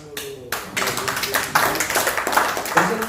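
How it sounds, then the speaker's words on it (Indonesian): An audience at an association gathering in Banten claps hands, a dense burst of applause swelling after a half-second pause and continuing steadily at moderate loudness. "Tepuk tangan dulu."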